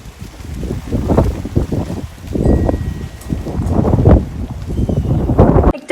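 A cool pre-storm breeze blows outdoors before a Kalbaishakhi nor'wester, buffeting the microphone in repeated low, rumbling gusts that rise and fall, with no talk.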